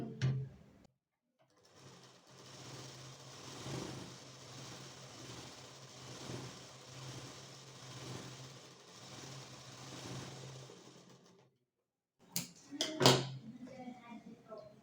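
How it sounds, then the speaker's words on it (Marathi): An electric sewing machine stitches a decorative blouse sleeve, running in a steady, softly pulsing whir for about ten seconds, then stopping, followed by handling clicks and someone speaking. "आता आपल्याला काय करायचं आहे दापटीप टाकायची"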